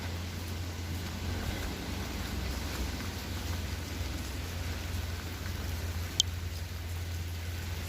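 Steady, even rain falling close by, a continuous hiss with a low rumbling undertone and one brief sharp click near the end.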